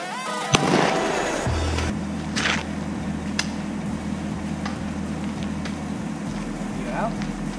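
Gunshots ring out in a wooded area: one loud, sharp report near the start, then a few fainter cracks, heard over a steady low rumble while people talk nearby.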